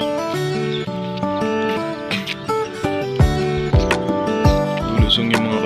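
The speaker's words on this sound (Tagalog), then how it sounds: "Lulusong yung mga kabayo." Horses step down into water with scattered splashes and hoof thuds under loud background music, a whinny-like cry rising midway.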